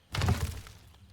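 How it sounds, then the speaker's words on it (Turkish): A brief object-breaking crash in the game Moving Simulator: a sharp thunk with shattering debris, loudest at the start and trailing off within about a second. "Kırıldı."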